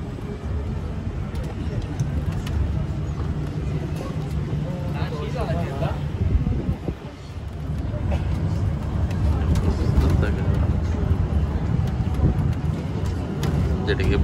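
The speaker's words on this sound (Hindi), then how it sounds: "गाड़ी में बैठ गए हैं, इलेक्ट्रिक गाड़ी में, देखते हैं क्या करती है।" Steady low rumble of an electric car ride on Princess Island in Istanbul, continuous road and motor noise throughout with a brief dip midway, voices talking over it.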